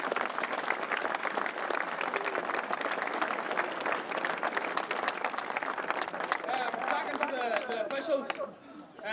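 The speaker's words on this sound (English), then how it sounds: "So, round of applause for Roslea." Crowd clapping at a Gaelic football championship final, a broad burst of applause mixed with chatter and voices, thinning out near the end.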